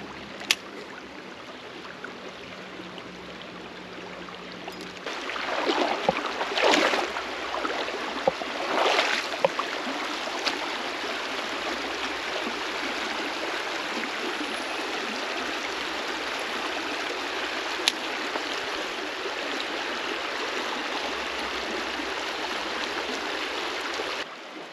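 A stream in Allegheny National Forest flows with a constant broadband rush and babble. A few louder splashes near the start come before the steady flow continues alone.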